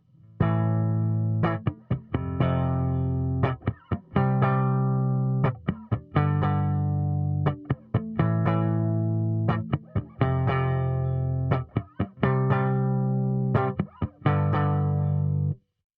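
Bass guitar strumming sustained chords in a steady repeating pattern, bright and close, with brief gaps between phrases and no talking.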